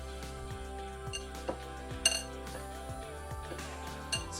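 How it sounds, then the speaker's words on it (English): A metal pastry cutter works butter into flour in a small bowl for a Bisquick crust, giving repeated clinks and scrapes against the bowl over a soft steady background, with no voices. "you just want to work it in with a pastry cutter"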